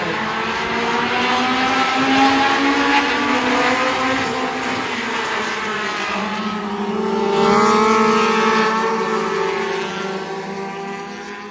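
A pack of race cars roars past on the Angola Speedway oval as the green flag restarts the field with 12 laps to go, engines loud and sustained, swelling as the cars come by.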